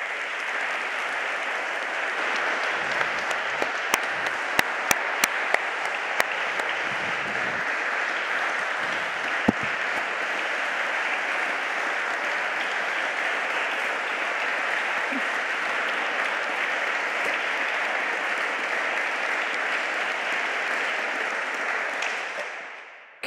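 An audience applauds the 2021 Körber Prize laureate, scientist Clare Grey, at an award event. The clapping is loud, dense and unbroken for over twenty seconds, with a few sharper claps near the start, and fades out at the very end.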